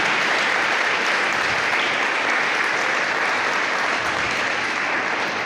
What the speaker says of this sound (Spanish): Fuerte un aplauso al Señor.